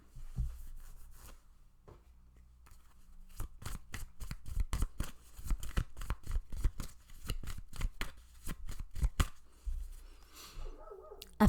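Tarot cards being shuffled and drawn, a close, quiet run of rapid riffling flicks and slaps in quick irregular bursts, with no talking.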